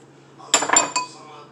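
Two metal spoons clinking together while filling deviled eggs: a few close, bright clinks in quick succession over quiet kitchen background.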